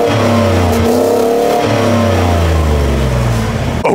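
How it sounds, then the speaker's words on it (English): Exhaust note of a 2022 Ford F-150 FX4 Sport pickup with the 5.0 V8, revving up and down in loud, close sweeps of deep engine rumble. "Okay, so what did you think of that exhaust note?"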